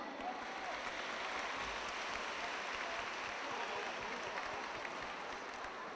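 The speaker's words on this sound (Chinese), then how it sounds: "那请为我们的调酒师热烈的掌声。" An audience at a university fashion gala applauds the bartenders, a steady, even wash of clapping that lasts the full six seconds and sounds fairly distant.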